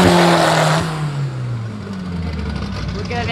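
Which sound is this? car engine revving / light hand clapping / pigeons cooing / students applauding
car engine revving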